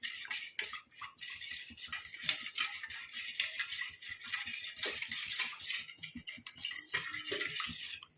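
A paste of corn flour and gram flour mixed in a bowl, a continuous rapid clatter and scrape of a spoon against the bowl with a quick steady rhythm, close by.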